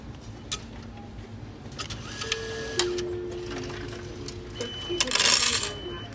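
Coins clatter into a ticket machine at a Japanese train station, a few near metallic clinks ending in a brighter rattling spill, with steady electronic beep tones from the machine and quiet station hum behind.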